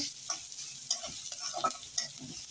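Chopped onion frying in hot white oil, a steady soft sizzle with a few light stirring scrapes and taps recurring at regular intervals.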